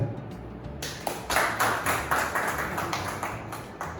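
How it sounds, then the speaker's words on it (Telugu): A reunion gathering of botany alumni from four batches breaks into applause, a room of hands clapping in a brisk, slightly uneven patter that swells after a sharp opening and holds steady. "అందరికీ బిగ్ క్లాప్."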